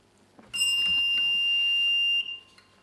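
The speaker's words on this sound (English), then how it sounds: "The buzzer came in before" A quiz show buzzer at a junior schools' quiz competition sounds a single sustained electronic tone for about a second and a half, loud and steady, then cuts off.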